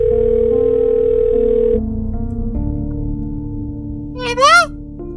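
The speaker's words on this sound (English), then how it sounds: "I hit call and slowly placed the phone up to my ear." Phone call tones in the DDLC Salvation Remake video game, made of steady electronic tones that step in pitch, then a short warbling chirp near the end, all loud and clear with no voices.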